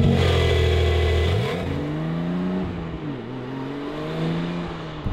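A Porsche GTS Lightweight sports car with a manual gearbox pulls away, its engine revving loudly near at hand, then dropping pitch through a gear change before climbing again.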